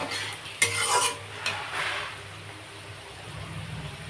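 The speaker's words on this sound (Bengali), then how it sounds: "দিয়ে তারপরে এই কটা ভাজছি।" Vegetables frying in a pan with cumin seeds, stirred with a utensil that scrapes and clinks against the metal, under a steady close sizzle.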